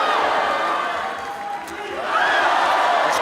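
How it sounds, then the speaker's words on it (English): A loud arena crowd at a ONE Championship MMA bout roars and cheers continuously, dipping briefly in the middle before swelling again into screams. "This crowd screaming every time Eustaquio lands, even off his back."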